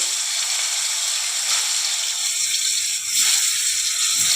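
Raw mango pieces frying in mustard oil in a pan for a sweet, sour and spicy pickle, giving a steady close sizzle and hiss that swells briefly near the end.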